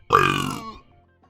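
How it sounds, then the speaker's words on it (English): A single loud, close burp with a rough voiced tone lasts about half a second and then fades away. "all my life I did not mean to burp like that"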